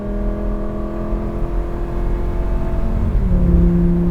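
Lamborghini Gallardo Spyder accelerating, a steady engine drone rising in pitch around three seconds in as the car gathers speed, heard from inside the cabin with constant road rumble and no voices.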